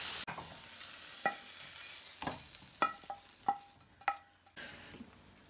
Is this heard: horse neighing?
no